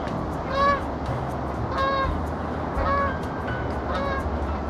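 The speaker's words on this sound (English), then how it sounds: "some geese coming in for a landing here, though." Geese honk repeatedly while coming in to land near a pond with ducks, in short calls spaced about a second apart and moderately distant over outdoor ambience.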